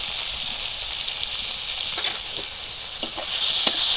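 Chopped onions sizzle loudly in hot oil as turmeric powder is added, a continuous crackling fry with occasional scraping stirs, rising slightly toward the end.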